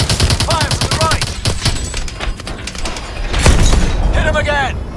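Rapid gunfire and heavy cannon blasts against tanks in the Call of Duty: Advanced Warfare Bio Lab mission, dense repeated shots with booming thumps and mechanical clatter, loud and continuous, with game voice chatter in the mix.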